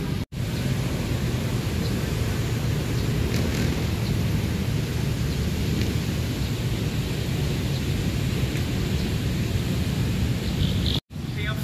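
Heavy rain pours steadily over Luneta Park, a broad, dense hiss with a low rumble that stays constant for the whole stretch, loud and close with no talk over it.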